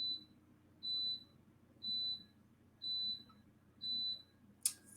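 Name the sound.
dishwasher beeping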